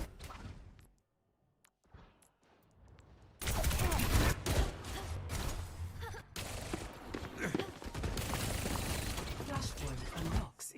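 Video-game gunfire bursts out after a quiet stretch of clicks and faint sounds: dense, loud rattling shots and impacts carry on to the end, with a voice talking underneath.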